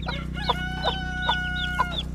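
A hen with newly hatched chicks clucking repeatedly in a short, rhythmic series, close and clear, with high chick peeps over a steady low hum.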